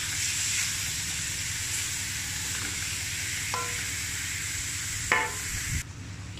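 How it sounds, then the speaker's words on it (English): Ground pork fries in a pan with a continuous loud sizzle and hiss, while a utensil stirs it, giving occasional scraping knocks against the pan. "I added the ground pork last. I'll just stir it so it will mix together."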